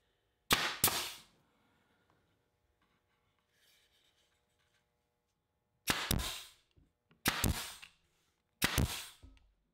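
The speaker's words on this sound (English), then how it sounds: "I've replaced the 1¼ inch nails with 3/4 inch nails in the nail gun." A pneumatic nail gun fires 3/4 inch nails into small wooden picture-frame molding, with four sharp, loud shots: two close together at the start, then after a quiet pause three more in an even rhythm.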